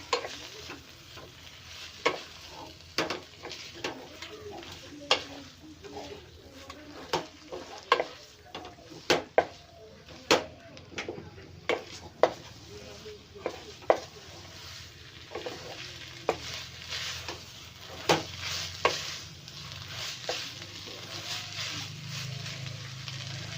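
Noodles and mixed ingredients are stirred in a hot frying pan over a steady sizzle, with frequent sharp scrapes and clacks of the utensil against the pan in an irregular rhythm, close and alone without talk.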